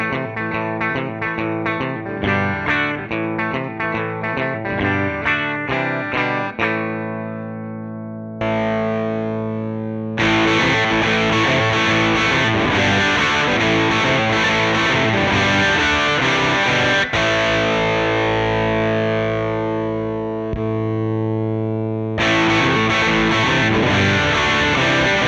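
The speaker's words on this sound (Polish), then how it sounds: "Będę grał monotonne riffy, tak żeby było słychać różnice." Electric guitar playing monotonous, repeated riffs through a BAT Cold War Drunk Beaver distortion pedal, heavily driven and sustained, with short pauses between phrases and no talking.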